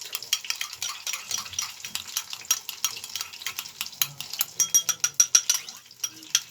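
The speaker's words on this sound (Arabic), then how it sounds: "نقلب دي كده مع بعض" Chicken being stirred with black pepper, a spoonful of sauce and oil in a pan, a busy scraping and clinking of a spoon against the pan over light sizzling, with a rapid run of sharp taps toward the end.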